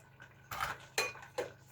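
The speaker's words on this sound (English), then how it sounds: "Now I'm going to stir in a good cup cheddar cheese" A spoon stirs grated cheddar cheese into a dinner dish, giving three brief scraping, clinking strokes against the cookware, close and clear, with no talk.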